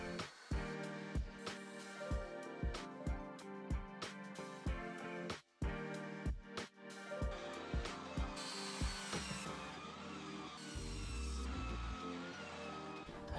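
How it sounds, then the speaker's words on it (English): Wooden cabinet door panels are cut on a Festool crosscut station and a DeWalt table saw, with a run of close, regular knocks and clatters giving way to a sustained whining saw cut near the end. "First in length with the Festool crosscut station, and then to width on the DeWalt table saw."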